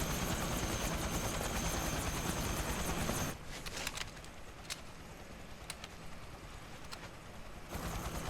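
A helicopter in the video game Metal Gear Solid 4 drones as a steady, loud broadband rotor roar, then drops to a quieter background hum with scattered sharp clicks and ticks before swelling back up at the end.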